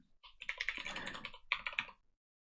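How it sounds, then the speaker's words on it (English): Close, quiet typing on a computer keyboard as a book title is entered, with a quick burst of keystrokes, a brief pause, then a few more taps before stopping. "for the book title, we're going to type in exactly what's on the cover"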